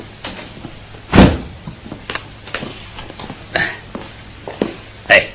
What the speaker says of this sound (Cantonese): 同我閂翻個門先